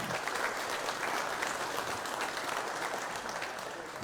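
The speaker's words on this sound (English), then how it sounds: "let's give them a round of applause for their efforts" An audience at an anglers' meeting and opening ceremony applauds the organizer and his wife, a continuous, fairly distant patter of many hands clapping at an even level from start to finish.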